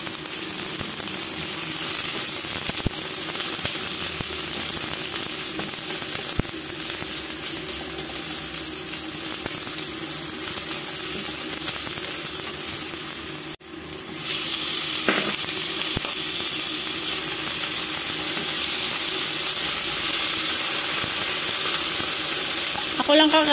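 Garlic sizzles and spits in a hot pan for pansit sotanghon, a loud, continuous crackling fry lasting over twenty seconds, briefly interrupted by a stir.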